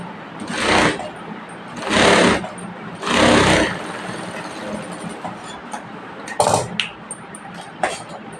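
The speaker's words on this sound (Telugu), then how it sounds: "ఇలా తిప్పేసి కుట్టు వేసుకోవాలి" A sewing machine stitches blouse fabric in three short, even bursts of rapid whirring, followed by quieter handling sounds and a couple of brief clacks close by.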